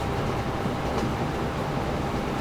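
A train running on rails in Train Fever, a steady low rumble with a continuous rolling drone, moderately loud and unbroken.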